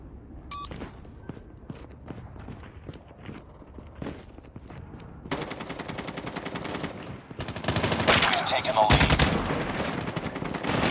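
Call of Duty Mobile gunfire: scattered single shots and footsteps at first, then dense, sustained automatic fire rattling loudly for the second half, with game voice callouts mixed in.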